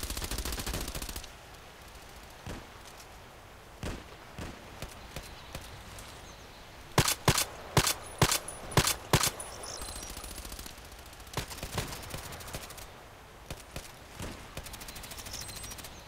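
Video game gunfire on the Old Sawmill map, a fast burst of loud sharp shots in the middle followed by scattered softer single shots, with sparse talk around them.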